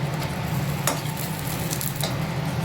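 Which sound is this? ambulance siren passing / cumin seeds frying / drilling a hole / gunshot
cumin seeds frying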